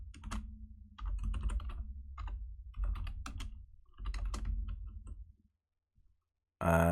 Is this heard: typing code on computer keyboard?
yes